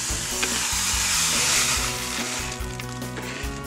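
Salt stirred into boiling water for sour dill pickle brine, a steady close bubbling hiss and sizzle with faint scraping of the stirring throughout.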